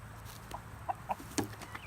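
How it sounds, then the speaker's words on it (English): A rooster gives a few short, separate clucks at close range, spaced across a quiet background with no one talking. "That's right, it's a rooster."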